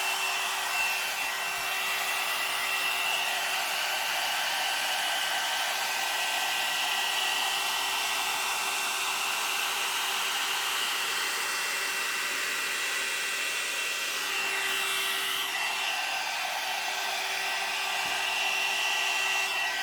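A one-step hair dryer brush runs on its highest setting, a loud, steady, close-up whirring blow with a faint high whine that holds unbroken throughout.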